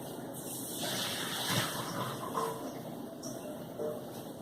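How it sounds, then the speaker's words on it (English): Tap water runs steadily at close range over apples being washed in a home kitchen sink while Thanksgiving cabbage is prepared, a continuous broadband splash with small surges and clinks, no talking. "I'm going to wash these apples."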